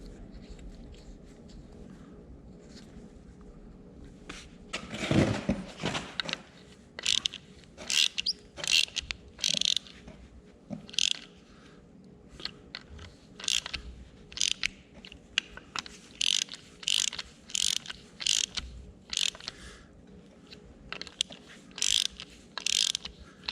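Ratchet clicks in short repeated bursts while bolts are snugged down on a White 2-155 engine, with a louder clunk partway through and a steady low hum underneath; no talking.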